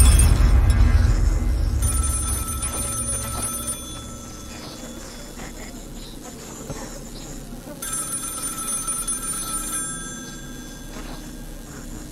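A phone booth telephone rings in the video game Find Yourself, repeated bell tones recurring over a low ambient rumble that is loud at the start.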